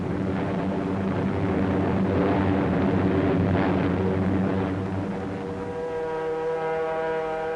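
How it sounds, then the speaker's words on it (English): B-29 Superfortress bombers flying over Rangoon, a loud sustained droning of piston engines with steady layered harmonics, shifting to a higher, cleaner whine near the end. "In one raid on Rangoon, 56 B-29s participated."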